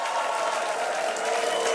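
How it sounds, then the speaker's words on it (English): A crowd at a Starship launch viewing site cheers and applauds in a steady, fairly distant wash of claps and voices, with no single voice standing out. "I don't know what they're cheering about."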